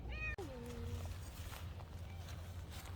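A cat gives a short meow at the very start on a homestead, with a longer falling tone after it, over a low steady hum and faint outdoor background.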